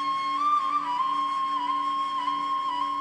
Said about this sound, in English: That's the sound of a ney.